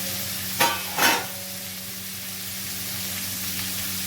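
A whole brinjal and tomato frying in hot oil in a pan, a constant broad sizzle close by, broken early by two quick scraping stirs, then a steady hiss.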